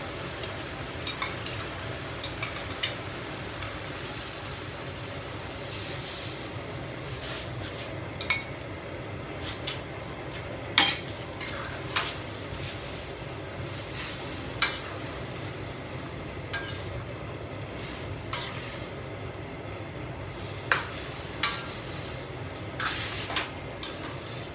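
Glass noodles are stir-fried with sauce on a portable gas stove, with a soft continuous sizzle under repeated sharp clinks and scrapes of a utensil against the pan, spaced irregularly across the stretch.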